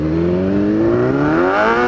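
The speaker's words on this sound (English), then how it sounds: "Okay, a little bit of a wheel spin then." A motorcycle spinning its rear wheel while pulling away, the engine note climbing steadily in a loud, close, rising whine.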